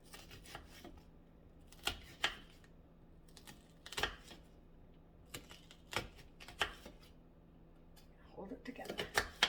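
A knife chopping vegetables on a cutting board for pico de gallo, scattered crisp taps and thuds at an uneven pace, close and moderately loud, with a person talking softly between cuts.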